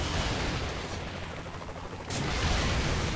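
Dense, continuous roar of gunfire and explosions from the Saints Row 3 video game, steady and loud throughout with a sharper surge near the end.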